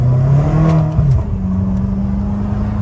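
A BMW M5 engine with an aggressive burble tune and freshly fixed vacuum lines hums at a steady low pitch, briefly revs and dips, then settles into a loud, even drone close to the listener.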